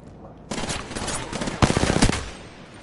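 Automatic weapon fire in Apex Legends, a loud close burst of rapid shots that starts suddenly, then a second denser volley.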